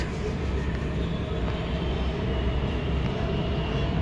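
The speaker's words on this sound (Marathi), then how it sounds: "बघा आमची बुलेट चालली, बुलेट नाही आमची मेट्रो" A steady, loud rumble of a metro train rolling past close by in Mumbai, with a continuous low roar and faint rattling throughout.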